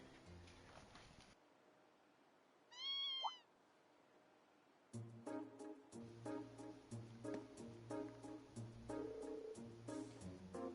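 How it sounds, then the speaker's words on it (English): A stray kitten in the video game Trails of Cold Steel II gives a single clear, rising meow after a brief quiet, set between game music and sound effects that resume loudly afterward. "What's the kitten doing here?"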